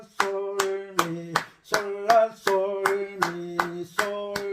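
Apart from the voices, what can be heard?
hand clapping to the beat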